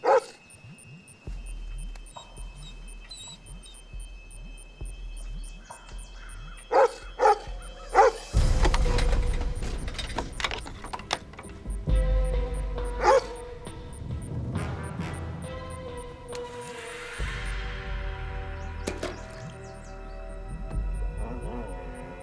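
A dog in a film barks and whimpers near a well, sounding in scattered bursts amid music and background effects, with the sound growing denser and louder partway through.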